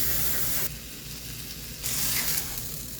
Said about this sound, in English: Let's sizzle this thing up.